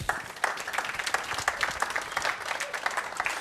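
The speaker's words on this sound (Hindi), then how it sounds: "वेरी गुड, तालियां फॉर हिम" Brief applause from a small group for a participant in a classroom demonstration, a few seconds of dense, moderately faint clapping.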